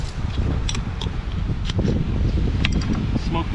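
Gusty wind buffets a beach cook's microphone, a steady low roar running throughout with brief brighter rustles, while a voice speaks over it.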